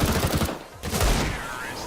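Gunshots in a Counter-Strike match, a quick cluster of sharp cracks, then a brief lull and another shot, with excited commentary running over them.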